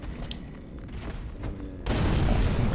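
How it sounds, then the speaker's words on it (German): A barrel explodes after being hit by a thrown firebomb in Dark Souls 3. A few faint thuds come first, then a loud, sustained rumbling blast. No speech. "Ja, auf die Fässer, die explodieren nämlich, wenn man drauf wirft"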